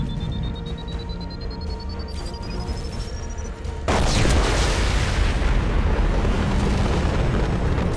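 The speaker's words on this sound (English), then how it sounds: "It's going to explode." A massive explosion in the video game Mass Effect 2 erupts suddenly after a steady electronic hum and rising whine, then a loud, sustained roaring blast fills the remaining seconds.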